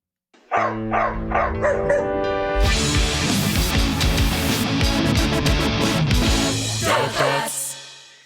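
A radio-show jingle for a dog segment: a few sharp, close dog barks open it, then upbeat music plays over more barks and yips before it cuts off.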